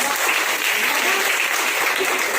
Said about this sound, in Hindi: विशेषकर आज आप अपनी टीचर्स के लिए भी तालियां बजाएं